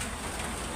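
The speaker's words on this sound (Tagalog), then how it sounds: "malakas nga pala ngayon ang ulan." Steady, dense hiss of heavy rain falling outside a house on Christmas Day, continuous and even with no breaks.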